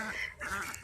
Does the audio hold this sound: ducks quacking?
yes